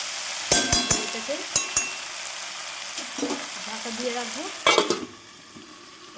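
Food fries in oil in a home pan, a steady sizzle broken by several sharp clinks of a utensil against the pan; a voice speaks briefly partway through.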